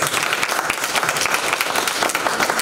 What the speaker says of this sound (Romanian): Să-l aplaudăm și pe el.